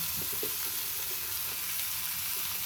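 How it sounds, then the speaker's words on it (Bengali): Karfu fish frying with onion, turmeric, coriander and chili powder in a pan, a steady close hiss of sizzling oil with faint stirring scrapes, no voices. "এখন আমি মাছটা এটাতে সুন্দর করে কষিয়ে নেব।"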